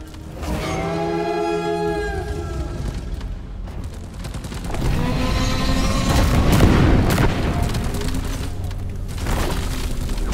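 A bulk detonator blows up in Deep Rock Galactic, a heavy booming blast with rumbling debris and crackling follow-up bursts under ongoing combat noise, preceded by warbling tonal game sounds.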